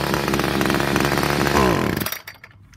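A Homelite Trim N Edge string trimmer's small two-stroke engine revving loud and close on a warm start, buzzing steadily, rising briefly in pitch, then cutting off abruptly near the end.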